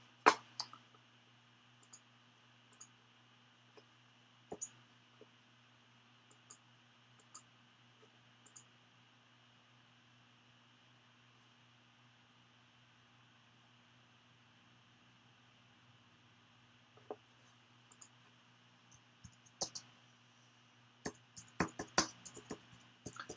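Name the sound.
typing on a computer keyboard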